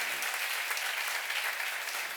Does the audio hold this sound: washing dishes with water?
no